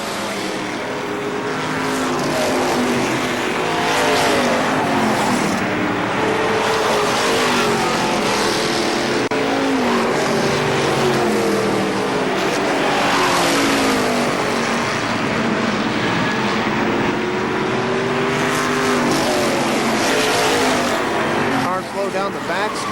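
Race cars roar around the track at KilKare Speedway, engines droning and rising and falling continuously as the field passes, with an announcer speaking throughout.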